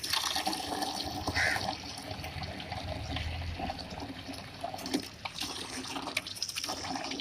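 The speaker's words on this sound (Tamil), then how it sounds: "இப்போ இந்த தண்ணியை திறந்து இப்போ பாருங்கள், டேப் திறக்கும்." Water gushes steadily from a freshly opened tap on a newly fitted pipe carrying bore water, a continuous, moderately loud rushing flow that keeps going without pause.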